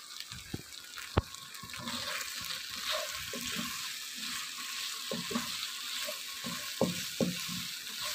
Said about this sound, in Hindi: इसको हम भूनेंगे अभी